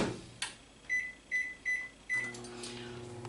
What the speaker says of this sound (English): I'm going to pop this into the microwave for about 1 minute